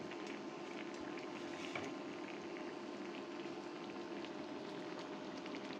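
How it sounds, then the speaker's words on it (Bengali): Pabda fish gravy boils vigorously in a pan, a dense, continuous crackle of bursting bubbles with an even, steady texture throughout, close up and at constant strength. "গ্রেভি ভালোভাবে ফুটে উঠেছে।"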